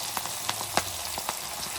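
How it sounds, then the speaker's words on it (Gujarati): Okra for stuffed okra curry drops into hot oil and crackles, with scattered close pops over a soft sizzle in a brief stretch. "તેલ થઈ ગયું ભીંડા નાખી"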